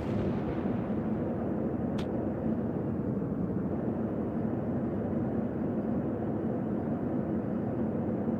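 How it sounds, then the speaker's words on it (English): Enemy gunfire and explosions in a flight combat video game, a dense continuous rumble of distant blasts and shooting with one sharp crack early on, steady and loud throughout. "He's firing at me!"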